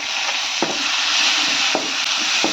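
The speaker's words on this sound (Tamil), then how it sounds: "போட்டு நல்லா வதக்கிக்கணும்" Chopped onion and tomato sauté in a pan for a potato masala, giving a steady broadband sizzle with a few soft stirring scrapes, close and continuous with no talk.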